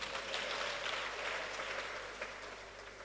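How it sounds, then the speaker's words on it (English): Church congregation clapping during a midweek baptism service, a dense steady wash of many hands that carries on throughout and eases off slightly toward the end. "Clap for Mary and Elizabeth."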